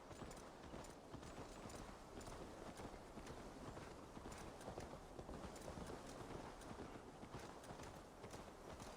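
A horse's hooves clip-clopping steadily in the video game Assassin's Creed Valhalla, a quiet, continuous rhythmic trot with no speech over it.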